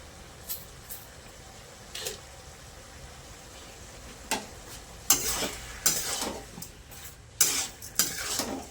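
Spoon stirring bottle gourd and prawn curry in a pan: soft scrapes and clinks come in bursts, growing busier and louder toward the end, over a faint sizzle.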